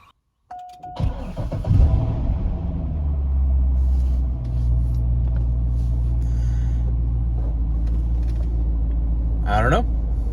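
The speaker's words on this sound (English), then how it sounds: "let's go ahead and get the car start, and this is gonna be a cold start" A C6 Corvette's engine cold-starts: it cranks, catches and roars to life, then settles into a loud, steady, rumbling idle, with a brief squeal near the end.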